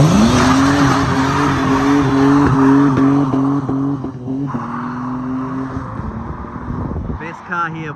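A BMW drifting on a track, with loud, close, sustained tire squeal layered over a droning engine that wavers as the car slides, easing off near the end as a voice briefly cuts in.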